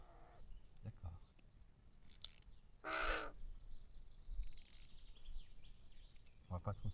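A bird that has just landed close by gives a few harsh, crow-like caws between quieter outdoor background sounds on a roadside stop.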